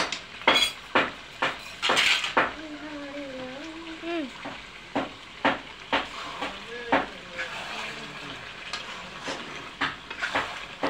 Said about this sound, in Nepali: फेरि अझै मजाले फ्राई गर्नुपर्छ अनि मात्रै मिठो हुन्छ